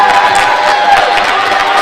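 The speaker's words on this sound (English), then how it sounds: "Gets a big ovation from the crowd." An arena crowd cheers and applauds loudly at a college basketball game, Iowa Central Tritons against Iowa Western, in a dense, continuous roar with no gaps.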